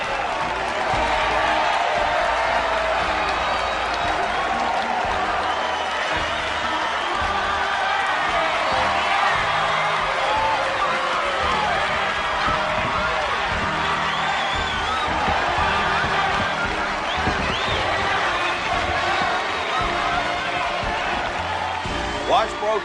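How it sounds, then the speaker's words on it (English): A large crowd applauding and cheering, a dense continuous roar of clapping with whoops, holding steady and loud throughout with voices mixed in. "The applause."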